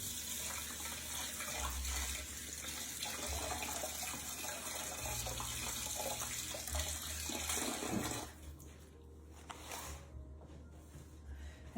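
A kitchen tap runs steadily while hands are rinsed under it, a loud constant splashing hiss that cuts off after about eight seconds, leaving quiet room sound.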